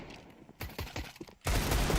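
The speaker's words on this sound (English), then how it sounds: "Bullets, gunfire spamming through the smoke." Gunfire from an esports shooter match fills the clip, with a quieter stretch of mechanical clatter giving way to a dense, loud burst of rapid shots through smoke near the end.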